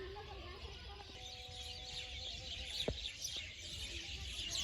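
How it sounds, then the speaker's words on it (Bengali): Chickens cluck and call at moderate distance amid steady outdoor background noise, with a few sharper bird calls breaking through. "দেখেন পাখির অবস্থা কি কি পরিমাণ পাখি"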